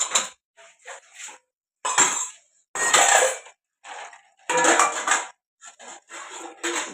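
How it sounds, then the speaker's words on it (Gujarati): A mother washes dishes, and metal pots and utensils clink and clatter in short irregular bursts with brief quiet gaps between them, close and fairly loud, with no voices. "બસ મમ્મી તો વાસણ ધોવા બેઠી."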